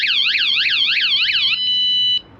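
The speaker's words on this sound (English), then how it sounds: "going to give you that nice little warning alarm to whoever's just maybe bumped into your van or tried opening the door that it's alarmed" A zonal van alarm system sounds a loud, close electronic warning, rapid wailing sweeps that repeat about six times, then shift to a steady high tone before cutting off.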